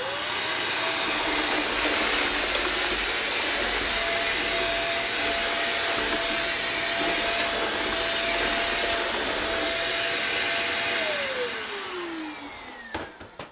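A Shark DuoClean vacuum cleaner runs steadily on a hard floor while sucking up breakfast cereal, a loud continuous whine with a steady motor hum, rising at the end as the motor spins down and cuts off.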